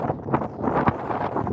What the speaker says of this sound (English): It was very windy, yeah.